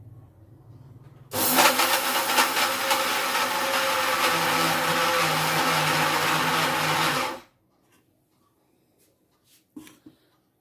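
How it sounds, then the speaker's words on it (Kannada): A mixer grinder whirs loud and steady for about six seconds while grinding salt and jaggery, then cuts off abruptly, leaving near silence with a couple of faint clicks. "ಇದನ್ನ ಈಗ ಗ್ರೈಂಡ್ ಮಾಡ್ಕೊಂಬರೋಣ"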